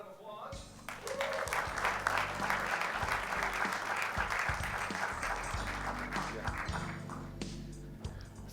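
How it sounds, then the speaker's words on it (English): An audience at an education awards ceremony in San Diego breaks into sustained applause after a brief voice, the clapping steady and full until fading slightly near the end. "Let's give a round of applause"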